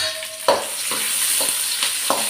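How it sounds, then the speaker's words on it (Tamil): Onions and curry leaves sauté in hot oil in a pan, a steady close sizzle broken by several sharp scrapes and stirs of a spoon at roughly even intervals, with no talking. "வெங்காயம், கருவேப்பிலை இதெல்லாம் போட்டுக்கிறேன். போட்டு வதக்கிக்கிறேன்."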